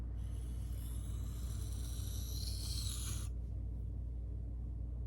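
A CPM 1V steel knife edge is deburred by hand on a sharpening stone, giving a steady close rasping scrape for about three seconds before it stops, leaving only low background hum.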